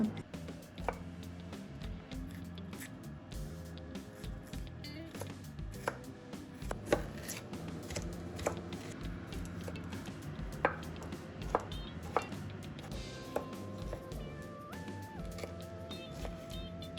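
A knife chops onion and other vegetables on a cutting board, with irregular sharp taps repeating over a soft background rustle.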